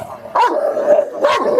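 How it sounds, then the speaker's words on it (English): Dogs bark sharply twice, close and loud, each bark trailing into a short whining tail, with quiet pauses between them. "Are they mean dogs?"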